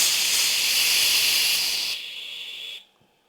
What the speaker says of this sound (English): I'm just going to release this pressure release valve, and this may unfortunately get kind of noisy